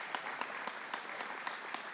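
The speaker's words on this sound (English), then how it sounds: "a round of applause" Audience applause for family members and friends at a space flight awareness awards ceremony, a steady patter of many hands clapping, moderately distant and fairly quiet, with no talking.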